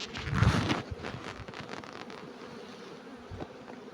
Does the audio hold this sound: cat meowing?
no